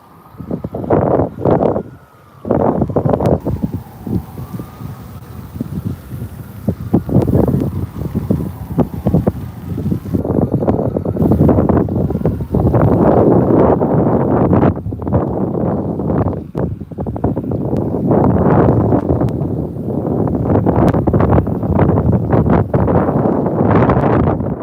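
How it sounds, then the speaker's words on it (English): Strong wind blowing outdoors on a fishing trip, roaring and buffeting hard against the microphone, loud and continuous throughout with gusty surges and no speech. "So I think it was just the wind."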